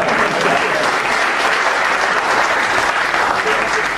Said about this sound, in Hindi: तालियां बजाओ, मिलकर बजाओ जरा।